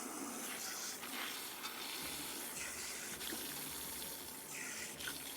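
Shower water running while hair is wetted, a soft, continuous hiss of spray with gentle fluctuations as the flow is interrupted, faint and steady with no voices.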